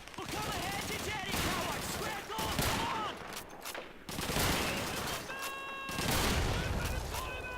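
Rapid bursts of Call of Duty 2 gunfire crackle over a busy mix of in-game sound effects, with a voice speaking at times underneath.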